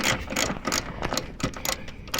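Small 10mm socket ratchet loosening a bolt while a trailer wiring harness goes onto a Honda Odyssey, giving rapid, close clicking bursts in an uneven rhythm with no talking.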